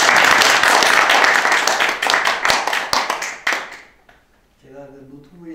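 An audience at a church-led meeting claps in welcome, dense steady applause that thins into scattered claps and stops, followed by someone speaking.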